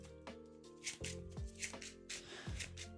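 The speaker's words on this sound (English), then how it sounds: "Shuffle the rest of these cards in." A deck of playing cards is riffled and shuffled during a Marvel Champions card game night, giving soft, close bursts of flapping and ruffling at an uneven rhythm.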